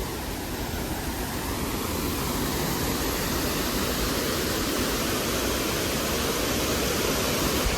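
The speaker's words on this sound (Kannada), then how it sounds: "ಅಲ್ಲಿ ಆ ಕಡೆಯಿಂದ ಫುಲ್ ನೀರು ಬೀಳ್ತಾ ಇರೋದು, ಇದು ಪಾತು." Water pours with force at Mayasandra lake, a dense, steady broadband roar that stays loud and unbroken throughout, like a close waterfall.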